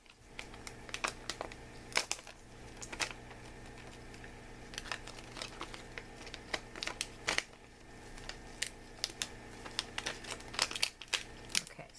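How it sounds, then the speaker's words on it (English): Craft paper for a 4th of July project being torn and peeled back from a corner: close, crisp crinkling and ripping in a steady run of short bursts, with no talking. "Just tear it off from the corner."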